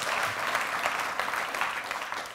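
Steady applause from a conference crowd at a tech talk, a continuous dense clatter of many hands clapping with no pauses, moderately loud and unbroken.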